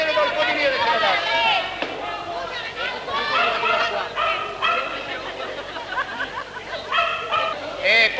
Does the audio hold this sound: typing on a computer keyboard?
no